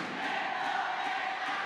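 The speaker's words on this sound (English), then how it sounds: "The crowd are right with them" A dense, sustained roar of a badminton crowd cheering for Indonesia in a large arena during a men's doubles match, loud and continuous without a break.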